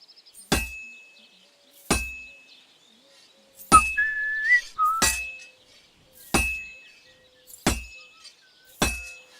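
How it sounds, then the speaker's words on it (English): A blacksmith's hammer strikes a heated sword on an anvil in Kingdom Come: Deliverance 2, seven crisp ringing metallic clangs spaced about a second apart, each leaving a bright sustained ring, with a short whistling tone between two of them. "Now take the hammer and try hitting it a few times."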